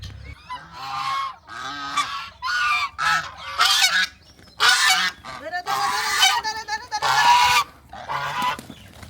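Domestic geese honk loudly and close by in a run of repeated brassy calls, several birds overlapping with brief pauses between bursts.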